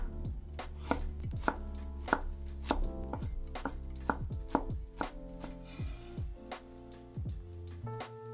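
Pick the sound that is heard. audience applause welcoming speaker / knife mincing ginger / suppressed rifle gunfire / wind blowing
knife mincing ginger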